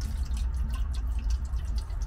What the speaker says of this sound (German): Da kommt einmal das Wasser rein.